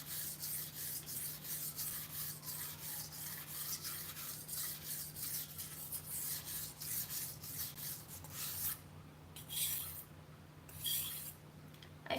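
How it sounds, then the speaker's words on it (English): A knife blade is drawn repeatedly across a whetstone, making a steady series of close, rhythmic rasping strokes, each a scraping rub of steel on wet stone, carrying on alone throughout. "I just really love the sound of this whetstone."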